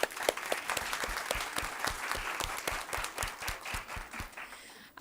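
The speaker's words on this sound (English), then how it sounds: "So if we can give everybody a round of applause." Audience applause at a National Adoption Day celebration in Delaware, a steady room-filling wash of many hands clapping with distinct individual claps standing out, holding for several seconds before stopping abruptly.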